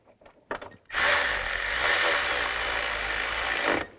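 A power tool whirs loudly and steadily for about three seconds while driving a bolt into the AC bracket of a 2000-08 Chevy Tahoe, after a couple of brief clicks and handling noises.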